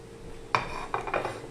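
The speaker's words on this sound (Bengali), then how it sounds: "কড়াই বসিয়ে দিয়েছি কড়াই গরম হলে তেল দিয়ে দিলাম" A metal wok is set down on a stove with a sharp clank, followed by a couple of lighter metallic knocks and scrapes close by.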